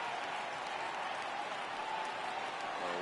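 A stadium crowd in a PS4 baseball video game cheers and applauds steadily, a dense wash of clapping and noise with no break.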